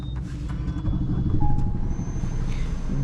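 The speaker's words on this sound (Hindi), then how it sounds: "गाड़ी एक बार स्टार्ट करते हैं और गाड़ी की इंजन नॉइज एक बार सुन लेते हैं" A Suzuki Swift petrol car engine runs at a steady, close idle after starting, with a low continuous rumble and a few faint high tones over it.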